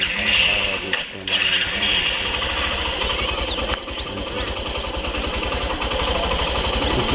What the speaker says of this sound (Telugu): ఇప్పుడు ఇంజిన్ స్టార్ట్ సౌండ్ చూడు